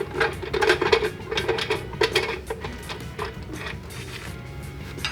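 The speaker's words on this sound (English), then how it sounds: "We'll start by unclamping our wheel." A steering wheel is unclamped from a racing wheel stand, producing a short burst of light metallic clicks and rattles of clamp hardware up close, which then thin into a quiet, even hiss.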